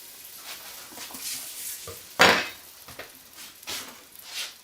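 Butter melts in a pan on the stove, with a soft sizzle under intermittent stirring and scraping, one louder clatter of a utensil against the pan midway, close and fairly quiet with no talk.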